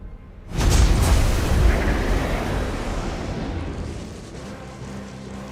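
A Nova Cannon fires in the space strategy game Battlefleet Gothic: Armada 2, a single loud, deep boom that hits suddenly and then rumbles away in a long, slowly fading decay.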